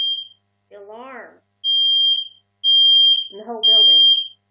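A building fire alarm blares with a high, steady electronic tone in repeated long bursts, loud and near, with a person speaking in the pauses and over one of the tones.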